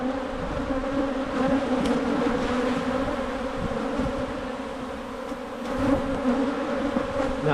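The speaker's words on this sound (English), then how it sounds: "Now I do got some bees on the ground" Steady, dense buzzing of many honey bees around an opened hive box in early spring, loud and close, holding at an even drone throughout with no talking.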